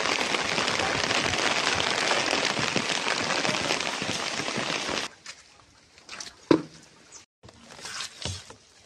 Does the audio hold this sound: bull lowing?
no